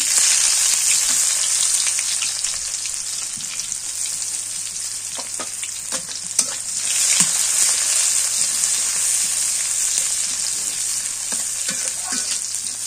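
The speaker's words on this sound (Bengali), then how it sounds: "পেঁয়াজ ভাজা হয়ে গেছে" Chopped onions fry in a pan with a loud, continuous sizzle, broken by occasional soft stirring clicks and scrapes, close by and with no one talking.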